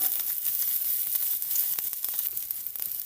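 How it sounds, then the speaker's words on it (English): Garlic and onion crackle in a little hot oil in a pot while frankfurter and egg fried rice is being made, a bright, close, steady sizzle with rapid small pops and no talk. "Now I'm going to add in my garlic and onion."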